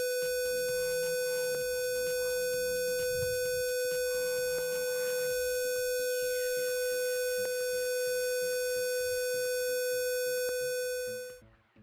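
A steady high-pitched electronic alarm tone from a 5-volt proximity-sensing circuit sounds continuously without a break, with faint clicks and a rising sweep beneath, cutting off abruptly at the end.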